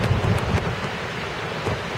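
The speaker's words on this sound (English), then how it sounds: "Ooh, and the rains are getting stronger." Heavy rain from Tropical Storm Irene pours down in Boston as a dense, steady roar, with gusty wind buffeting the microphone in low rumbling bursts and no voices heard.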